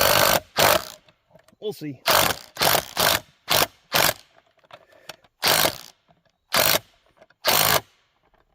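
A ratchet wrench turns a small SK socket while rebuilding a deer feeder, giving sharp bursts of clicking in repeated short strokes, close and loud. A brief spoken remark falls between the bursts.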